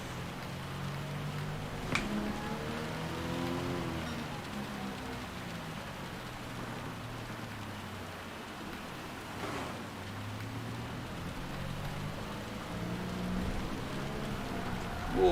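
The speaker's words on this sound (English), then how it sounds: "the fact that you can drive in rain like this without your wipers on and still see" Steady rain hisses throughout a race in Gran Turismo 7, with a car engine droning and rising and falling beneath the rainfall.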